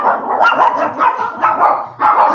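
A pet dog barks indoors in a repeated burst of about four loud, close yaps with short gaps between them, with no talk over it.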